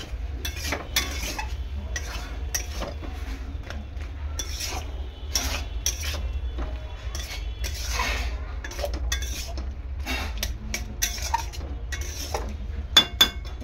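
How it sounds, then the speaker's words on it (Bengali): A spoon scrapes and clinks against a pan as potatoes and peas are stirred and sautéed with a little sugar, irregular metallic knocks and scrapes over a low steady hum, close by, with no voices. "ভালো করে এরকম আলু আর মটরটাকে কষিয়ে নেব"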